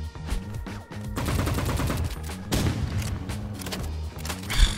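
Gunfire from a sniper rifle rings out in the Roblox game Rivals, with several sharp, loud reports and bursts of shots in quick succession and a heavy boom near the end.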